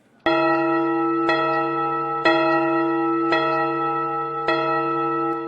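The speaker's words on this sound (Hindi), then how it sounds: "ये घंटी पहले बंद करो" A large bell tolls steadily, about one stroke per second, each ring sustaining a rich, humming tone that overlaps the next.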